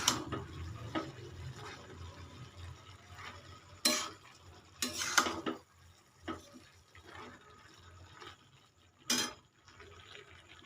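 Banana flower ghonto is stirred in a pan, faint low sizzling with a few loud, sharp clanks and scrapes of a spatula spaced through the quiet stretch.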